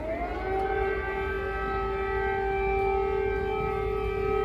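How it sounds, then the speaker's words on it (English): Air raid sirens wail across Kyiv in wartime, a steady rising-then-holding tone heard at a distance and moderately loud over a low background rumble, with no talk. "Air raid sirens have sounded in Kiev this morning"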